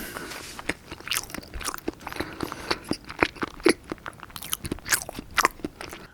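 Acorn jelly, a Korean dotorimuk, is bitten and chewed close to the mic, giving soft squishy bites and wet crunchy chewing in irregular bursts, with no talking.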